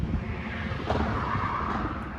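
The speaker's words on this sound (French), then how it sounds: "Désolé pour les bruits de voiture derrière, mais on est juste à côté de la route" Cars pass on a nearby road beside an outdoor padel court, making a faint, steady traffic hum with one soft whoosh of a vehicle going by midway.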